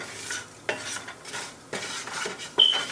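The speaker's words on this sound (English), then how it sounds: "we're just stirring to have our spices release their natural oils and for them to not burn" Whole spices, including green cardamom, fry in a pan while a utensil stirs them, giving a soft sizzle under a few distinct scrapes and knocks, with a short metallic clink near the end.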